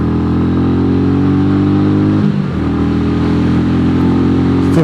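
A Royal Enfield 350 single-cylinder motorcycle accelerates hard along a dual carriageway, its loud, steady engine drone thick with low harmonics and dipping briefly mid-run before pulling on; no one speaks.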